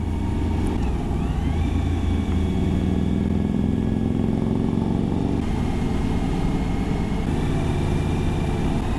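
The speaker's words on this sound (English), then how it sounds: "These Harleys have a nice burble, not straight through pipes. They've just got a lovely little rumbly burble to them" Harley-Davidson motorcycles rumbling along a highway with a deep, steady burble from their stock exhausts, not straight-through pipes, heard close and continuous throughout with a slight rise and fall in engine pitch.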